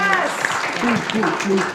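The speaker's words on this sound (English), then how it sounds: "Give yourselves a round of applause." Comic con panel crowd applauding in a convention room, a loud continuous clatter of clapping under a speaker's voice talking over it for the whole short stretch.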